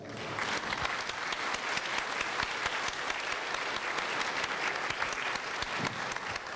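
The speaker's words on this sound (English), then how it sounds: "give you a very well-deserved round of applause" A school audience at a middle school dedication ceremony applauds the administrative team and cabinet, a sustained, even wash of many hands clapping throughout, somewhat distant and moderate in level, with no voices on top.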